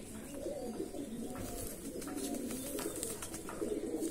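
An Andhra Madrasi pigeon coos softly and continuously nearby, low murmuring calls over faint background hiss, with no one speaking.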